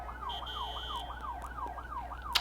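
An emergency vehicle siren wails on a New York street, its rising and falling tone repeating steadily at moderate distance over a low traffic rumble, with a brief sharp sound near the end.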